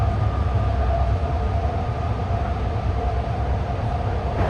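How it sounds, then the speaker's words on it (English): A BART train on the orange line rolls along with a loud, steady rumble and rail roar as another oncoming train approaches to pass, the noise continuous throughout with a faint whine riding above it. "it must be another train coming at us that we're going to pass"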